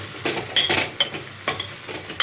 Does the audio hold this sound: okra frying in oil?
yes